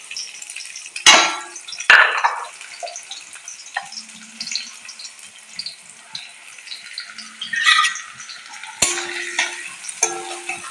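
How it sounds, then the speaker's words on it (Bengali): Chopped onions fry in hot oil in a pan, with a quiet crackle broken by sharp bursts of sizzle and clatter as they are stirred, plus a faint splash of water now and then. "দেখতেই পাচ্ছেন পেঁয়াজটা ভাজা হয়ে এসছে"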